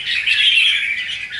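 A red-whiskered bulbul calls aggressively, a harsh, raspy scolding squawk held for over a second, close and loud, with no voices.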